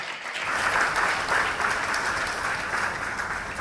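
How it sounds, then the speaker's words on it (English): Sustained audience applause for a keynote speaker at a Nigerian business conference, a dense, steady wash of many hands clapping at even loudness throughout. "Round of applause, please."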